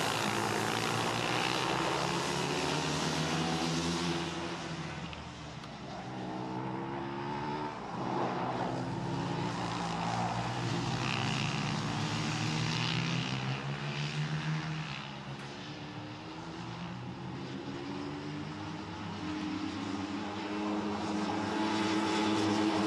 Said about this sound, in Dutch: En het zijn de VT1 motoren.